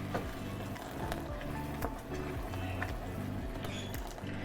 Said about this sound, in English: I'm still adding in my water slowly and carefully.